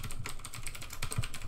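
Keys clatter on a computer keyboard while a name is entered during a Windows Whistler Build 2419 setup in VMware, a quick irregular run of close, crisp clicks with no talk.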